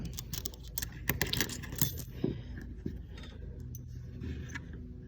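Metal and plastic chandelier parts clink and jangle as they are taken apart and stacked, giving close, irregular rattles and light taps with no talking.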